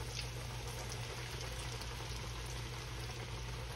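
Shrimp frying in hot oil at about 350 to 380 degrees, a steady dense sizzle and crackle with a low continuous hum underneath, close and unbroken with no talk.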